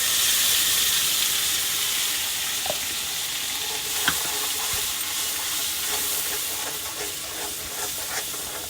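Masala sizzles and fries in a pan while being stirred, a steady loud hiss with occasional soft scrapes and clicks of the spoon, no talking.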